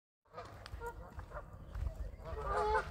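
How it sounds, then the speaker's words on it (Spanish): Ducks quack and honk at Royal Lake, a park lake in Virginia, USA. Several birds call in short overlapping bursts at moderate distance over faint outdoor ambience. "Escuchen a los patos,"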